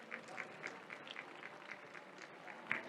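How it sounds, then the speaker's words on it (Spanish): Applause greets teachers presenting their project at an education event. It is faint and distant, with scattered claps over a steady background. "Les damos un fuerte aplauso."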